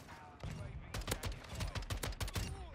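An SO-14 rifle fires in Modern Warfare II, a fast, loud run of about a dozen close sharp shots in quick succession.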